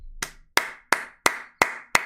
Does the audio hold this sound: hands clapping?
yes